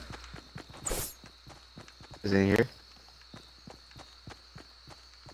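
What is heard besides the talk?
footsteps in a video game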